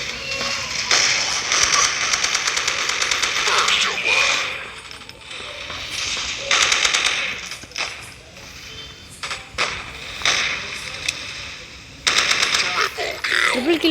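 Rapid gunfire from a shooting video game comes in repeated bursts across the whole stretch, with game effects dense between volleys. A voice talks over parts of it.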